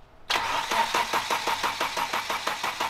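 A Toyota 4E-FE car engine cranking over without catching, a steady rapid rhythmic whirring of the starter that begins abruptly and continues loudly throughout.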